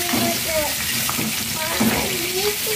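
Sri Lankan style country chicken curry sizzles and fries in a pan while a spoon stirs it in repeated scraping strokes, close and fairly loud, with no talk.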